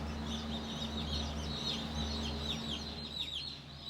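Many chickens cluck and chirp densely inside a hatchery barn, with a steady low mechanical hum from ventilation or machinery running underneath throughout.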